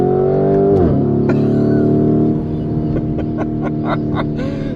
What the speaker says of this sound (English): Give you guys some downshifts. The burbles that this thing has is freaking insane.